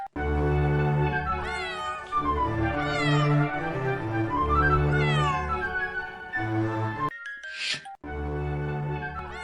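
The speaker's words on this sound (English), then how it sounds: "The cat is inside the box." A cat meows over and over in a long run of loud, close, wavering cries, with a brief sneeze-like burst near the end and no talking.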